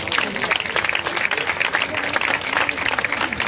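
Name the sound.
audience applause for a performer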